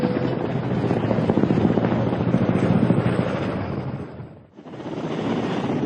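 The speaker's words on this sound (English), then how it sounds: "Ka-226 helicopter" A Ka-226 gas turbine helicopter's turbine roar and rotor chop fill the air steadily, loud and close, then briefly dip away before surging back.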